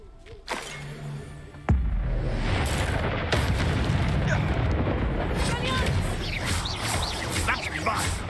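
A Confringo blasting spell detonates in Hogwarts Legacy with a sudden loud boom, followed by a sustained roaring, crackling rumble of fire and debris that stays dense and loud to the end, with a voice speaking briefly over it.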